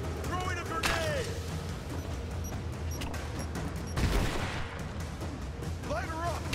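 Gunfire in the video game Rise of the Tomb Raider, with repeated shots and a louder burst near the middle, mixed with shouted combat calls and a whistling whine over a rumbling, busy background.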